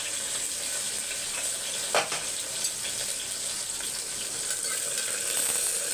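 Shallots, garlic and green chillies fry in a pan with a steady soft sizzle, a brief louder crackle and spatter about two seconds in, and no talking.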